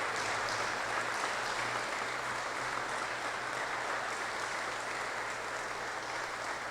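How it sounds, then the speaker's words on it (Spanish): A church congregation at a funeral mass with the ashes present gives a sustained, dense round of applause, steady and even throughout, filling the space. "Démosle un fuerte aplauso."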